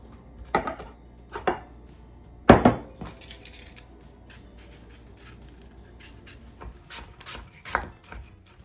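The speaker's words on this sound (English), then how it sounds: "So I'm going to get these peeled, sliced, and then put into a medium bowl." Apples are peeled and sliced for a gluten-free French apple pie: sparse, fairly close knife taps and scraping clicks against a board and dish, with quiet gaps between a few sharper knocks.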